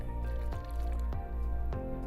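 Water poured from a small vial into a cup during a chemistry show, a wet trickling fill with a few splashy drips and gurgles over a low steady hum.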